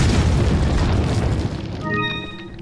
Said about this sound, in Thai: ถ้ายิงโดนระเบิดที่มันปามาพอดีนะครับ มันก็จะระเบิดเลย